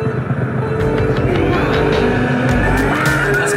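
A Nintendo Switch racing game plays loud, continuous engine roar with tire skids and squeals, plus quick effect tones layered over the steady drone.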